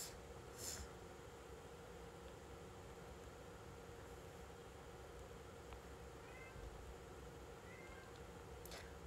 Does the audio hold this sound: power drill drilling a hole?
no